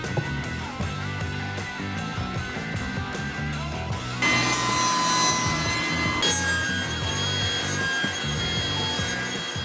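Wooden workbench legs being cut against a saw fence, a steady rasping saw cut with a scraping, rubbing texture that runs through the clip, growing brighter and louder partway in, close and alone.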